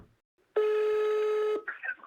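A single sustained telephone dialing tone lasting about a second, loud and clean against near silence, followed by a short burst of brief electronic beeps from a phone before a call.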